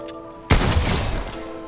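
A single loud shotgun blast in Fortnite bursts out suddenly and rings off in a short decaying tail, close and alone.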